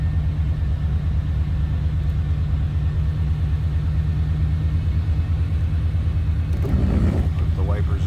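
1988 GMC Sierra K1500 SLE 4x4 pickup engine settling into a steady, low rumbling idle, even and close, with a brief rustle near the end and people talking over it.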